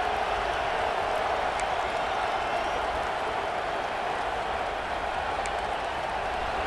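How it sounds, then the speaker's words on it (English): Home crowd at a Texas A&M college football video game roaring steadily, a broad, unbroken wash of cheering noise heard from a distance with no clear breaks. "how nice is it to have the home crowd going absolutely bananas?"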